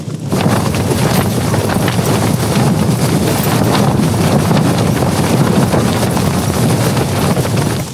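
Strong wind roars and buffets the microphone continuously while hiking in Sarek, Lapland, loud and unbroken with no other sounds standing out.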